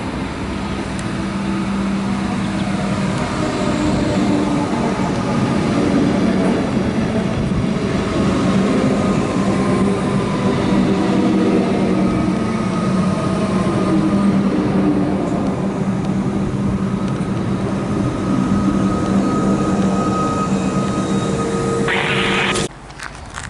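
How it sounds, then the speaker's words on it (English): V/Line N class diesel locomotive hauling a train past on the down line, a loud, steady engine rumble and rolling wheel noise sustained for over twenty seconds before cutting off abruptly, with no talk. "Locomotive on the down V line."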